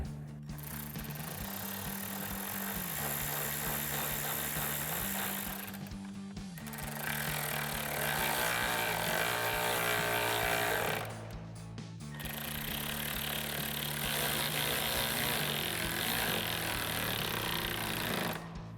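Self-tapping screws are driven into the upper grille of a 2024-2026 Ford Mustang GT with a power drill, in three long, steady whirring runs separated by brief pauses, each run shifting pitch as the screw bites and seats.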